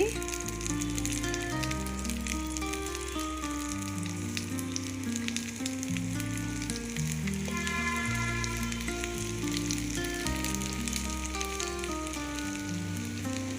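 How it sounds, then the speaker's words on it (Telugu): Stuffed okra masala, whole lady's fingers fried in a pan on low heat, giving a steady sizzle beneath prominent background music throughout. "ఇదే మాదిరిగా అన్నీ వేయించుకొని ఒక ప్లేట్లో తీసుకోవచ్చండి చివరిలో సిమ్లోని బాగా పెట్టి వేయించాలి"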